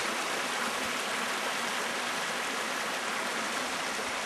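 A small mountain creek along a steep mountain bike trail flows in a steady, dense rushing wash, close and continuous without pause, with no voices over it.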